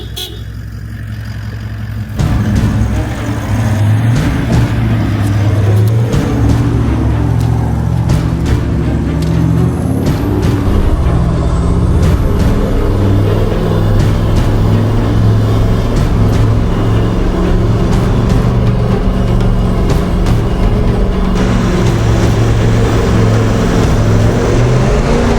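Toyota Hilux engine labouring up a steep off-road climb in second low gear, a loud continuous drone with shifting tone, close and dominant throughout.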